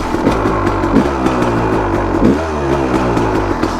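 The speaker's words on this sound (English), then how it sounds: "Love it when the CR starts up first kick." A Honda CR dirt bike fires up on the first kick and settles into a loud, close, buzzing two-stroke idle with small revving bumps, heard alone without talk.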